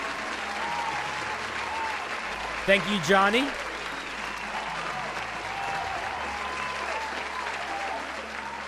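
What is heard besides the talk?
applause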